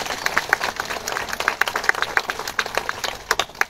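An audience at a public gathering in Telangana claps in thanks, a steady, moderately loud patter of many hands that carries on without a break.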